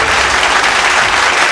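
A large audience at a sangeet ceremony breaks into loud, dense applause for cricket captain Rohit Sharma, a short burst of close clapping and cheering.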